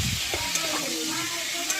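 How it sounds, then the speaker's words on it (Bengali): Fish bones fry in hot oil with cumin seeds, giving a steady, close sizzle and hiss with light stirring scrapes as a voice talks over it. "নিজে জিরে ফোড়ন দিয়ে এগুলো একটু ভেজে নেব"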